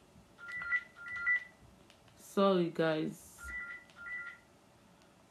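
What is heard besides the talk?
landline telephone ringing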